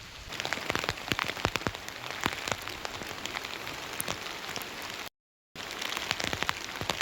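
Steady rain patters on a hard surface at Thamburattippara rock, with many sharp close drops tapping irregularly over a continuous hiss; a brief dropout near the end.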